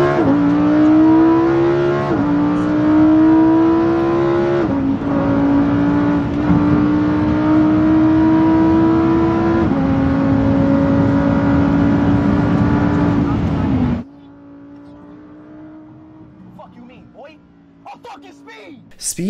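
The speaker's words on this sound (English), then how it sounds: "there's nothing remotely fake about driving a Lambo at 150 miles an hour" A Lamborghini sports car driven at high speed, its engine roaring loud and steady with rising pitch through gear changes for about fourteen seconds, then cutting to a quieter, muffled interior with faint noises.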